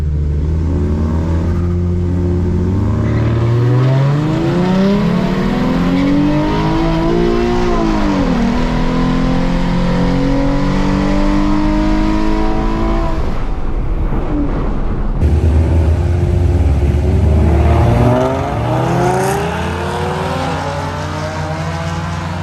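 Drag strip cars, including a Mustang, launch hard one after another, with loud, close engines wailing up through the revs in two separate runs and a brief lull between them.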